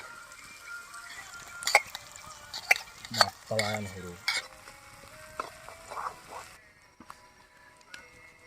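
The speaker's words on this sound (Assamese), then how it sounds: "এফালে আমি পিঁয়াজ জ্বালা বহাই দিলোঁ" Onions frying in a pan with a soft sizzle, punctuated by sharp scrapes and clanks of a spoon stirring against metal, close by, with pork cooking nearby at a picnic.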